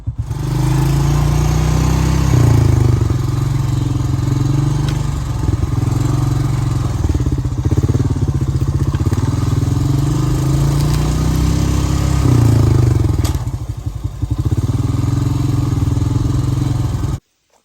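A four-wheeler ATV engine runs continuously and loudly nearby, a steady mid-pitched rumble with slight throttle variations before it cuts off abruptly at the end.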